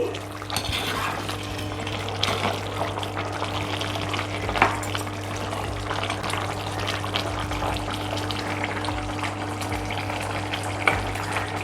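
Pallipalayam chicken frying on high flame with onion, tomato and ginger, giving a steady, continuous sizzle and bubbling of juices, with occasional stir clatters and a constant background hum.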